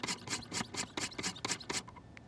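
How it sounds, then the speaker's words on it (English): Repeated rasping strokes of a knife blade drawn against the stones of a Wicked Edge Generation 4 Pro guided sharpener, about ten quick even passes in a steady rhythm, close and clear, with no talking. "Now I'm going to go onto the other side of the knife and do the same steps, 10 strokes"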